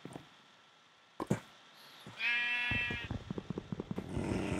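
A sheep in Minecraft gives a clear, close bleat in the middle of the clip, set among short clicks and game noises and a few quiet moments.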